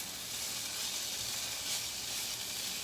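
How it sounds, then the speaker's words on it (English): Green peppers and onions sautéing in olive oil in a pan give a constant, even sizzling hiss throughout, close and unbroken, with no voices. "I'm sauteing my green peppers and onions."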